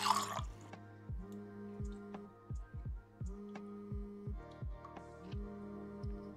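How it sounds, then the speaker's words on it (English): Hot water pouring for espresso in the café game Espresso Tycoon, a quiet run of regular dripping plinks over soft tonal hums, evenly spaced and faint throughout. "And what if I do it with hot water?"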